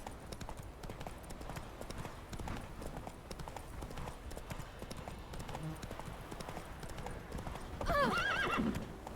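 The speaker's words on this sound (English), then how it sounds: "Whoa there, Roach." A horse with a rider, hooves clip-clopping in a steady rhythm throughout, then a sharp neigh near the end.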